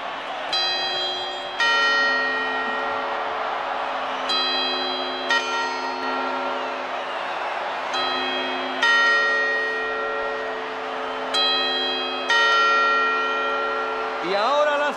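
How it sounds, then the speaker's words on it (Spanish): On New Year's Eve, a clock's bells chime the quarters in a slow series of about eight resonant strikes, each ringing out and decaying before the next. A faint sweeping tone rises at the very end. "¡Cuartos!"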